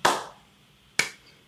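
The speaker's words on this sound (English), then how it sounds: "Shall we pause for an awkward applause?" Two isolated, sharp hand claps about a second apart in a quiet room, each crisp and close with a short decay, sounding sparse and deliberately awkward.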